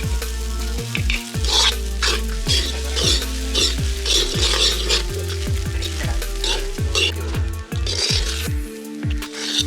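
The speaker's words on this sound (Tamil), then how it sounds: "இப்போ வந்து ஃப்ரைட் ரைஸுக்கு ரைஸை போடுறோம்." Rice stir-fried in a pan for Jaffna-style cuttlefish fried rice: a constant sizzle with rhythmic spatula scrapes and clanks against the pan, a low steady hum running underneath.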